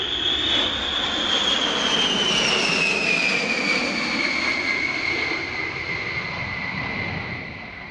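Boeing B-17 bomber Sally B, a four-engine piston warbird, passing close at Duxford with a loud, steady broadband roar and a high droning whine that slowly falls in pitch as she goes by, fading slightly at the end.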